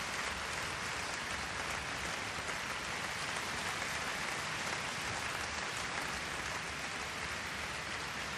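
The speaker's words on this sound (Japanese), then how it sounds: "鳴り止まぬ拍手が聴衆の心を捉えた証でした。" An audience applauds after a piano concert in Switzerland, a dense, even wash of clapping that holds steady without a break and with no voices over it.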